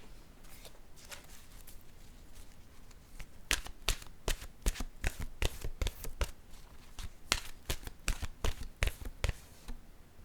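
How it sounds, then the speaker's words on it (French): Oracle cards are shuffled and drawn by hand, producing a run of quick, crisp riffling bursts and flicks that grow busier midway, close and fairly loud over faint room noise. "Je vais piger une carte maintenant de mon oracle de l'âme intuitive."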